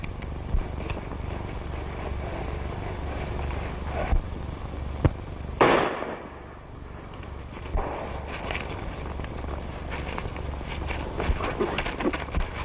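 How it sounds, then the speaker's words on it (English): One sharp gunshot cracks out midway through a hissing 1936 western soundtrack, echoing briefly, with faint clicks scattered around it. "I tell you, I heard a shot."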